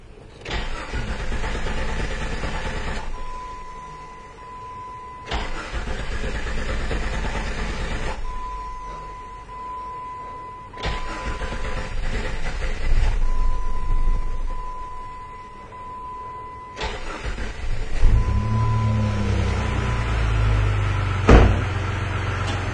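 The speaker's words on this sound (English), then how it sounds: "it still had a little bit of trouble starting up" A 2004 Jeep Cherokee with a cam/crank sensor fault code (P1391) struggles to start, its starter cranking in several repeated attempts before the engine finally catches and settles into a rough idle, loud and close.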